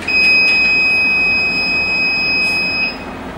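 The buzzer of a SUNPACK 1025 charge controller sounds after its switch is pressed, giving one loud, continuous high-pitched tone that lasts almost three seconds over a low background hiss before cutting off.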